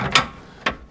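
A ratchet wrench clicks twice while turning a bolt on the steering of a 1997 Jeep XJ, two sharp, close, metallic pawl clicks about half a second apart.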